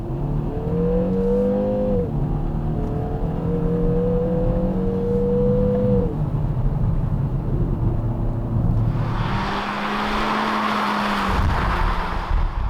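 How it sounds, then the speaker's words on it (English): A 2020 Kia Forte 5 GT with its 1.6-liter turbocharged gasoline engine pulls away in sport mode, a steady engine drone with rising and shifting pitch from inside the cabin, swelling into a broad rushing roar near the end. "Now let's put the car in sports"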